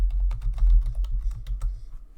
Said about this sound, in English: So when I start typing, it'll actually appear on the page.